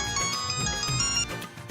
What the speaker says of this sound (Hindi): ये तो मेरा फोन लग रहा है